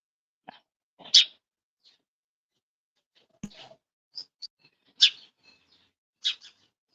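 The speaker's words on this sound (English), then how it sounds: "Yeah, the birds are always out." Sparrows chirping outside, with a few short, sharp chirps and tweets scattered over several seconds, moderately close and isolated against a quiet background.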